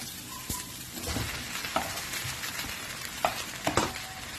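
White champignon mushrooms fry in a pan for soup while being stirred, a steady sizzle broken by several sharp scrapes and knocks of the spoon against the pan, close and with no speech.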